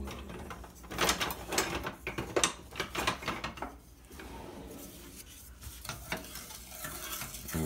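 A small spoon stirs sugar and salt in a pot of lemon pie filling, making repeated close scraping and clinking strokes in an uneven rhythm with no talking.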